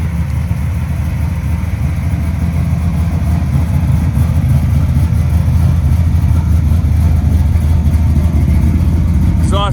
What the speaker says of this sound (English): Exhaust sounds just killer.